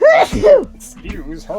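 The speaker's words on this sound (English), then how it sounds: "Another sneeze." A single sharp sneeze bursts out, followed by a voice speaking briefly at close range.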